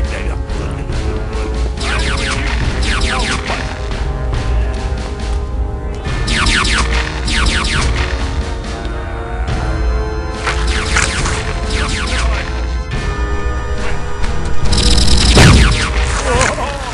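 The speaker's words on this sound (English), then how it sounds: "Those rapid fire lasers you just heard" Rapid-fire laser blasts from the Stubbs the Zombie video game come in repeated bursts of crackling zaps, loud and close over a dense game soundscape, with a deeper boom near the end.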